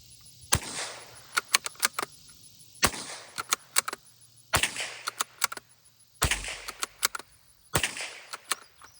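Five sharp .22lr reports from a bolt-action rifle firing Winchester ammunition out of a ten-year-old survival cache, spaced a couple of seconds apart, each followed by quick metallic clicks of the bolt being cycled.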